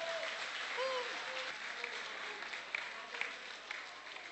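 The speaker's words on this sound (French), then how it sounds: "Miss Centrafrique, s'il vous plaît, on l'applaudit bien fort" An audience applauds Miss Centrafrique at the Miss Union Africaine 2013 pageant, sustained clapping from a crowd that holds steady for a few seconds with a few sharper claps near the end.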